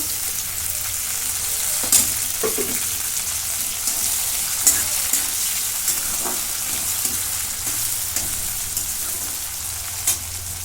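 Onion and tomato fry in a pan for a black brinjal curry, giving a steady close sizzle with a few sharp spatula taps and scrapes scattered through it.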